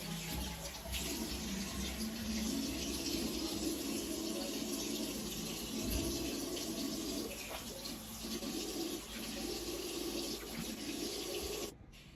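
Water runs steadily from a tap into a sink while a face is washed off, a continuous close splashing flow that stops abruptly near the end.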